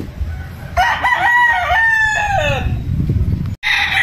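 A gamecock broodstag rooster crows once, loud and close, a drawn-out harmonic call in the middle of the clip over low barnyard background noise.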